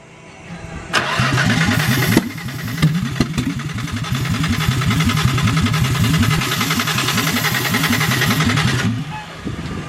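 A Nissan R33 drift car engine cranks and catches on its first start, running rough with rapid repeated chugging pulses and sharp exhaust backfire pops before cutting off abruptly.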